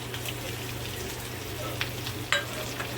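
Brinjal pieces coated in masala frying in a pan while being stirred, a steady low sizzle with a few soft scraping taps, no voices.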